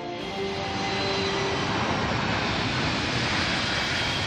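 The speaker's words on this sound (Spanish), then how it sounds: "Los aviones vuelan tan bajo que a veces es imposible oírse uno mismo." Jet airliners fly low over the approach to Rome Fiumicino airport, a loud, steady engine roar with a broad rumble filling the whole stretch, close overhead and without talk.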